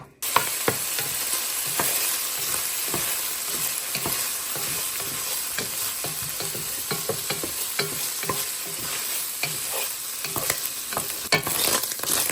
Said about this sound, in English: Oh yeah, we're getting a little crispiness to those little pieces of ham.